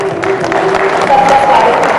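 An audience at a film festival in Kashi claps together, a dense, loud, steady wash of applause with crowd murmur mixed in.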